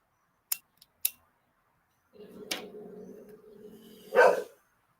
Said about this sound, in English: The dog is barking at absolutely nothing.